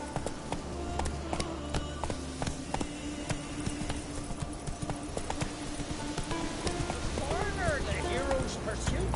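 Roach, the horse in The Witcher, gallops with steady, rhythmic hoofbeats that stay close and continuous throughout, while someone speaks over the clatter and background game sounds.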